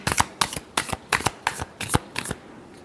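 Tarot cards are shuffled in a quick series of about eight crisp riffling bursts, close and distinct, with brief pauses between them.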